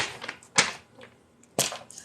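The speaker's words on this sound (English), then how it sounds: "I am going to shuffle one more time, though, just because I don't want to just get your hopes in the reading" A deck of tarot cards being shuffled, with two sharp riffling bursts and softer rustles between them, close and fairly quiet, no voices.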